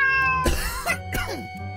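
A cat in the video game Minecraft lets out two loud, drawn-out meows close up, each wavering in pitch, over a low steady background hum.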